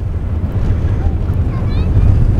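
Strong wind buffets the microphone high atop an observation tower on the Danish coast, a steady, loud low rumble that barely lets up, with a few faint high whistles drifting through.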